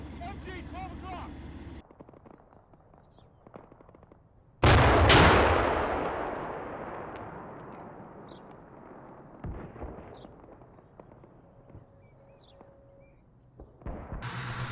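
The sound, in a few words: gunfire from a forest, from video game Combat Mission Cold War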